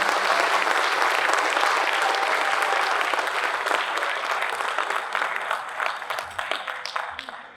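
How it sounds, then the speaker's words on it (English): A dense round of applause fills a university convocation hall, many hands clapping steadily and loudly before slowly thinning toward the end, with no talk over it. "A big round of applause"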